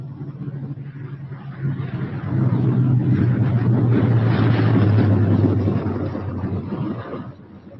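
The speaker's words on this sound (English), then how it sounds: "Coming in with his left inboard engine dead." A four-engine B-17 Flying Fortress bomber with its left inboard engine dead and a feathered prop comes in to land, a heavy droning engine roar with a steady low hum that swells louder midway before easing off.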